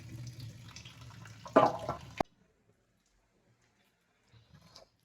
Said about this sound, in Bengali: আর এখানে বেলটা আমি ভালো মতো করে ধুয়ে দিচ্ছি।